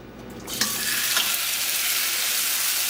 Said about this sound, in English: Listen to that sizzle. That's what you want to hear.